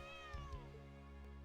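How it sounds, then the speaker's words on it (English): In the video game Trails of Cold Steel III, a cat meows a few times, short and quiet, over soft game music. "I hear the meows."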